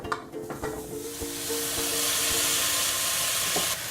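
Chopped potatoes go into vegetables already cooking in a pot for a hearty black bean soup, setting off a steady, close sizzle and hiss with soft stirring scrapes, growing louder and fuller as the pot heats up.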